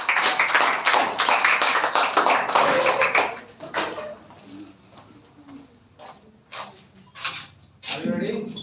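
Students and teachers in a school audience clap after a speech at a computer education competition. The applause is close and lively for about three seconds, then thins to scattered claps among quiet talking and room noise.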